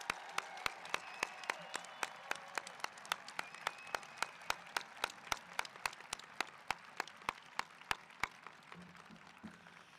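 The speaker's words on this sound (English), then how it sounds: "So one quick round of applause for all of our staff that have done" Faint applause for school staff at a District 103 eighth-grade graduation ceremony, made of evenly spaced, steady claps in a slow rhythm that run for about eight seconds and then stop.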